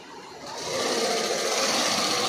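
An electric sewing machine runs steadily while stitching a sari, its whirring motor rising to a constant, close, continuous hum after a brief start.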